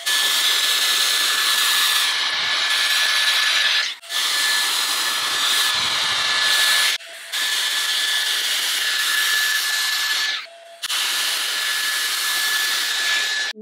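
A Dyson Airstrait hair straightener blows hot air through wet hair in loud, steady bursts with a high whine, cutting out briefly three times between bursts, with no voices.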